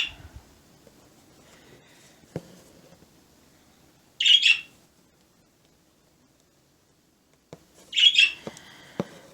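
A bird gives two short, loud squawking bursts several seconds apart in an otherwise quiet indoor room, with faint scattered rustles and taps between the calls.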